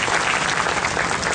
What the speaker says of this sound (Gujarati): આપણે હૃદયથી ખરેખર બધા ગામવાસીઓ, ઉપસ્થિત તમામ સજ્જનો એમનો તાળી વગાડીને સન્માન કરીએ